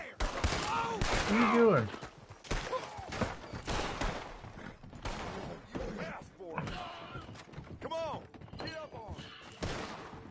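Gunfire in Red Dead Redemption 2 Online: bursts of loud, close shots and rapid volleys arrive in clusters, mixed with someone talking over them and a few thuds.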